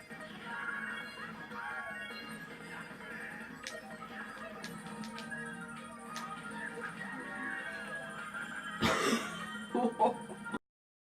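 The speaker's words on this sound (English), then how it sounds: "I seriously just coughed and tried to hide it." A single cough, stifled as if hidden, from a player during a Mario Kart Wii online race, heard as a short burst near the end over ongoing game music and sound effects.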